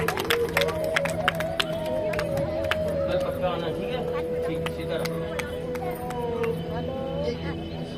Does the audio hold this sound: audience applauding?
yes